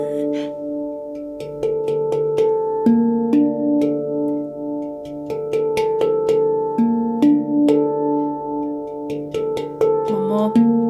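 A handpan played softly sounds sustained, ringing metallic tones in a slow melodic pattern, with notes overlapping and gently gaining in presence.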